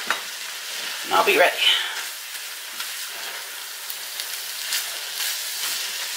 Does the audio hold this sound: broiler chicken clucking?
no